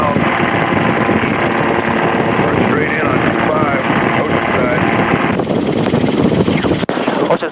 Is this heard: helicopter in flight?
yes